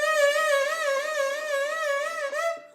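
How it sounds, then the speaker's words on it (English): A fingertip slides along a string with too little pressure, giving a wavering glissando tone that wobbles up and down in pitch for nearly three seconds before cutting off. "Which is called glissando in music."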